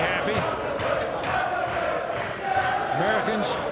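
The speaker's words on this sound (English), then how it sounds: "European crowd very happy." European fans cheering at a Mosconi Cup pool match in Las Vegas after Europe takes a 4-3 lead, a steady roar of crowd noise with shouts and whoops throughout, loud and continuous.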